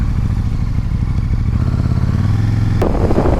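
A KTM 1290 Super Duke motorcycle accelerating, its loud, close engine roar building steadily and ending in a sharp rising burst near the end, with no talk.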